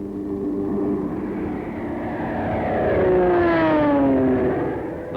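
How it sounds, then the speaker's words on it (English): World War II carrier aircraft attacking Formosa, their piston engines droning loudly with a rising, sweeping pitch as a plane passes close overhead, then fading slightly. "the carrier planes continued to press the attack"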